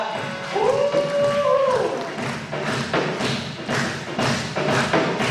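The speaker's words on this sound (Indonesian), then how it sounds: "Sekali lagi kita berikan tepuk tangan bagi Allah kita" Congregation in a Sunday morning church worship service clapping along in a steady rhythmic beat, thudding claps over music with a sung melody line and crowd noise throughout.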